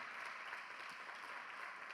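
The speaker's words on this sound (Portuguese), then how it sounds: "Você pode aplaudir Jesus com a salva de palmas bem forte" A church congregation applauding during a worship service, a faint, even wash of clapping from many people, continuous and without voices.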